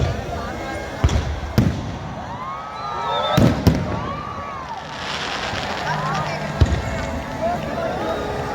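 Loud fireworks burst and crackle as the Ramlila effigy burns at the Red Fort grounds in Delhi, with several sharp bangs over a steady festival crowd roar and people talking.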